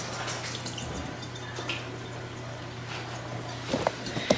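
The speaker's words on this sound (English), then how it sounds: "I'll wash my hands real quick." Tap water runs steadily into a kitchen sink during a quick hand wash, a soft continuous wash over a low hum, with a few small clatters near the end.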